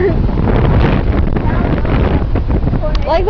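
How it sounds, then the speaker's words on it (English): Strong wind roars and buffets the microphone at a beach during a storm, loud and constant throughout, with people shouting and talking over the gusts. "Like the wind is like pushing me over."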